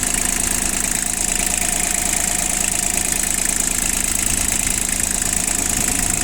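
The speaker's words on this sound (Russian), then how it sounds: "Работает двигатель очень ровно." An excavator's three-cylinder engine idles smoothly and steadily up close, a constant mechanical hum with a faint knocking rhythm and no voices.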